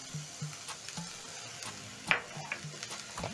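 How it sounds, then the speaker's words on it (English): Diced onion and garlic sauté in hot oil in a pan with a quiet, steady sizzle, broken by faint scrapes and clinks of stirring at close range. "Saute the onions and garlic until soft."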